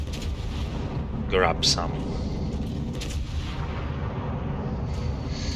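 Naval guns fire in World of Warships during a sea battle, with a couple of sharp booming salvos close together early on over steady rumbling engine and ocean ambience, while someone talks.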